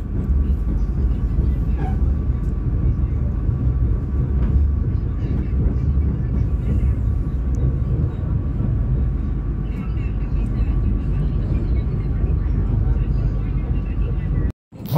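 A steady low rumble of the Banyu Biru passenger train running between Semarang and Solo, continuous and fairly loud throughout, ending in a brief cutoff.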